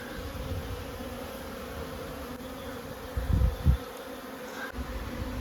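Honeybees fly around warm hives standing in a sunny spot at an apiary, making a dense, steady buzz close by, with a few low thumps partway through.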